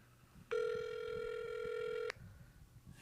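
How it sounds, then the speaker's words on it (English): A single steady telephone tone rings out for about a second and a half, clear and close, and then stops abruptly, with a quiet room murmur before and after. "I'll call from my phone."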